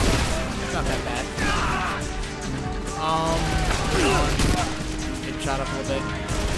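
Gunfire in the war shooter Frontlines: Fuel of War, with steady, busy bursts of shots and impacts running throughout under a constant wash of battle noise.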